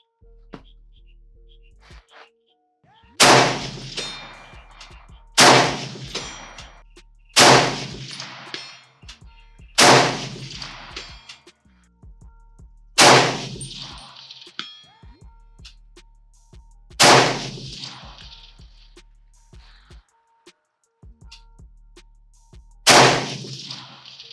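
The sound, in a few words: Springfield M1A .308 rifle gunshots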